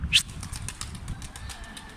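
Pigeons flap their wings as they take off and fly overhead, a short burst of flapping near the start fading into softer wingbeats against quiet outdoor background noise.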